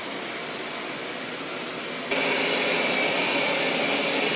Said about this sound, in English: In each mode, the vacuum is about 2 decibels quieter than the previous flagship